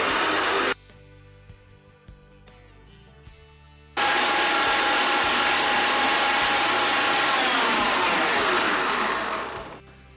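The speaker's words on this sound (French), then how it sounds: "on va allumer le batteur à puissance maximum" Electric mixer whipping egg whites at maximum speed for macaron meringue: a loud, steady high-pitched whir that starts abruptly after a brief burst and a quieter stretch, then holds evenly before tapering slightly at the end.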